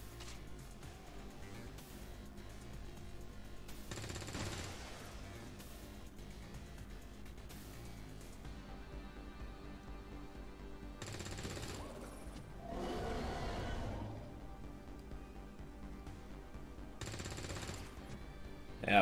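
Resistance operatives firing guns in the strategy game XCOM 2, several separate bursts of gunfire spaced apart over a quiet, steady background, moderately loud and fairly close.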